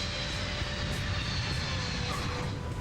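A C-5 transport plane touches down on the runway, a loud, steady roar of aircraft engines and rushing air filling the whole span without a break.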